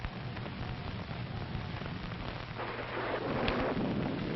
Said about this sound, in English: It's liable to rain all night.